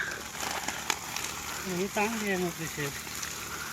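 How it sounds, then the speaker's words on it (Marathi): Water spouts high into the air in a dense forest, a continuous rushing, hissing gush heard close and steady while someone talks over it. "मित्रांनो पाणी किती वर उडाला"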